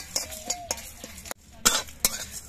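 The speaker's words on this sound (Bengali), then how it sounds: "এবার এগুলো আমি সব নেড়ে চেড়ে ভেজে নেব।" Fennel, coriander and cumin seeds stirred in a pan, with sharp scraping strokes of a spoon against metal and a light sizzle, close and alone without talk.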